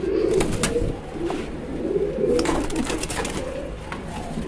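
Pigeons at a breeder's farm coo in soft, continuous rounded calls, several birds overlapping at close range for the whole stretch with no talk.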